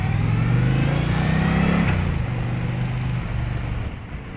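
A 2023 Indian Pursuit motorcycle engine revs up with rising pitch, holds, then drops back to a steadier drone, loud and close throughout.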